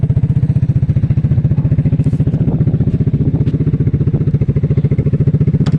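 A Suzuki LTF 250 4WD QuadRunner ATV engine idling steadily, a rapid even low putter with slight clatter, close and loud, running alone without voices.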